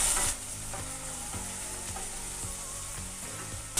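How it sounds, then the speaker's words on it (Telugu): Mint stirred into semiya pulao frying in a pan, a loud continuous sizzle close by with a regular scraping of a spoon against the pan, and no voices. "పుదీనా వేసుకొని కలుపుకోవాలి."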